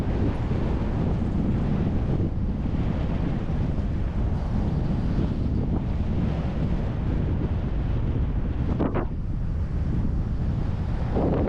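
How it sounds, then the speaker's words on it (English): Wind rushing past during a fast Brompton bike descent, a loud, steady, roaring buffet of wind noise on the microphone that fills the whole clip with no letup. "Oh, the wind!"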